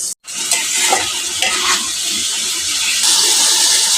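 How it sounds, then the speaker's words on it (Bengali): Potato and papaya sautéing in a pan for a pabda fish curry, with a steady loud sizzle and repeated scraping stirs throughout, no talk. "এখন আমি আলুর সাথে পেঁপেটাকে ভালো করে কষিয়ে নেব"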